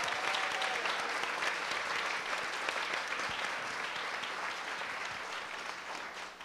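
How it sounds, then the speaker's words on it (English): An audience at an art talk gives a steady, dense round of applause, loud at first and gradually tapering over several seconds, with no voices over it. "Let's give them a quick round of applause."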